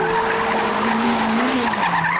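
A T-Rex three-wheeler's single rear wheel spins under throttle, its tire squealing over a strained engine note that rises and then dips, loud and close.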